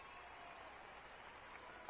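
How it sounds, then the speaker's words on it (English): Faint, steady crowd applause runs through a Genshin Impact cutscene, a soft wash of many clapping hands with no break, swelling briefly at the very end. "Let us send her off with a round of applause and show her the warmth and gratitude of our"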